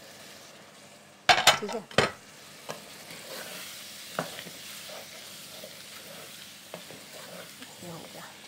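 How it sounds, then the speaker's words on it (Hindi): Potatoes frying and being stirred into a spiced masala in a pan, with a few loud scraping stirs early on, then a steady soft sizzle with occasional light clinks; someone speaks briefly. "मैं इसमें आलू डालूँ ताकि आलू भी जल्दी से हमारे गल जाए"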